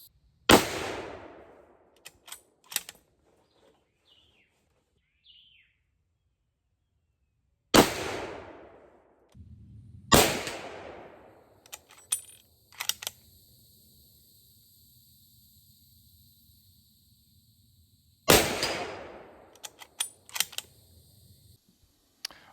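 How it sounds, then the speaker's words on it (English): Sharp, loud .370 Sako Magnum (9.3x66mm) rifle shots firing Federal factory ammunition outdoors, four separate reports spaced several seconds apart, each with a ringing decay, and quiet handling clicks between them. "shoot this Federal factory ammo in this rifle"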